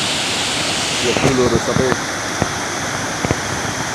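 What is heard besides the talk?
river swollen and rushing after heavy rain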